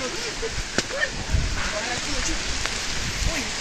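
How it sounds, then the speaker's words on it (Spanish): Heavy rain pours steadily on a rural El Salvador night, a constant dense hiss with scattered louder drops, while people talk and exclaim over it nearby. "Está lloviendo fuerte."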